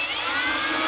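A power drill whirs in one short, steady high-pitched burst while tightening cabinet hinge screws, close and fairly loud, with no talk.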